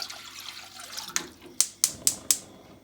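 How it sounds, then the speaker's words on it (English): Two cups of water go into a pot in a home kitchen. A soft watery wash runs under several sharp, close clicks or knocks spaced about a quarter second apart. "So I'm adding 2 cups of water in here."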